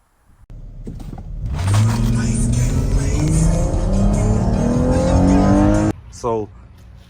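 A Dodge Charger with an aftermarket intake revs hard, its loud engine note climbing and holding near the listener for several seconds before cutting off abruptly, followed by one short sharp blip.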